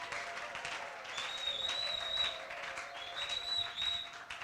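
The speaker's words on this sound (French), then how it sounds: "Acclamons Jésus, poussons le cri de joie à l'Éternel." A church congregation claps and cheers in acclamation of Jesus, a dense, steady wash of applause with a whistle-like tone rising over it twice, filling the whole moment without spoken words.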